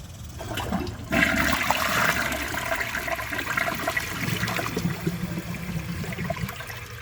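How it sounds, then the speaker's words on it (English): A 2007 Corona Aquajet front-flush toilet is flushed on a dry bowl, opening with a sudden loud rush of water that settles into a steady gurgling flow lasting several seconds. "let's see how it flushes with a dry bowl"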